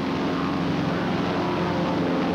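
Propeller airplanes flying in formation, a continuous loud droning engine roar that holds steady throughout with no voices.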